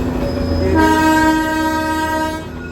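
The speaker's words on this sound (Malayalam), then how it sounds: "മലയിടുക്ക് വഴി പോകുന്ന ട്രെയിൻ കൂടിയാണല്ലോ" A Darjeeling Himalayan Railway train running on its mountain line, its horn sounding in a loud sustained blast over a steady rolling rumble, close by, with no voices.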